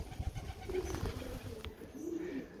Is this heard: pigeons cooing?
yes